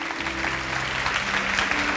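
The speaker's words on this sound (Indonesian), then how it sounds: "Berikan tepuk tangan buat Tuhan." Church congregation applauding together, a steady wash of clapping that fills the space at even loudness, with a sustained musical tone held underneath.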